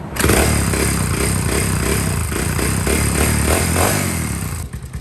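A 1985 Honda ATC350X three-wheeler runs rich right after the choke comes off, its engine loud and close, a steady, uneven single-cylinder chug with clattery mechanical noise. The idle drops off near the end.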